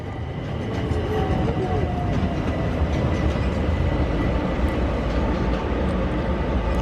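A train pulling into a London station platform on a line running through to Clapham Junction via Willesden, a steady loud rumble and rolling rail noise held throughout without letting up.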